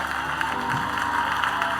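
A church congregation applauds during a lively worship service, a sustained wash of many clapping hands filling the room over steady tonal music underneath.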